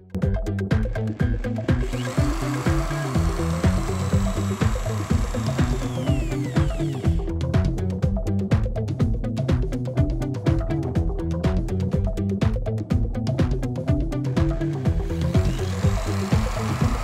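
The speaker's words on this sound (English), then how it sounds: "Drill holes for mounting." A power drill runs steadily, drilling mounting holes in wooden pieces of a homemade compass for a long stretch, its motor whirring with a rapid pulsing texture and occasional grinding rubs.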